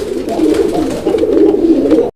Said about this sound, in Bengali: এখানে আরও একজোড়া কবুতরের কালেকশন রয়েছে